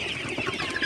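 Sonali super hybrid chickens cluck together in a busy poultry shed at night, a dense chorus of overlapping short calls close by and fairly loud, with no voices.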